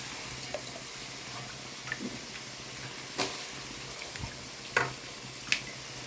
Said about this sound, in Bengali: আলুগুলো আমি এখন আস্তে করে ছেড়ে দিব।